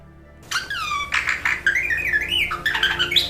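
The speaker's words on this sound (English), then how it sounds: "And this is the sound that a bird makes." Rapid chirps and warbling whistles from a bird, sliding up and down in pitch, close and fairly loud with no talking.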